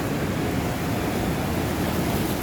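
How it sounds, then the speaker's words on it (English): Floodwater surging and breaking at a whitewater park running at 7400 cfs, a steady close-up roar of churning waves with no talk. "Just had a wave crash on me."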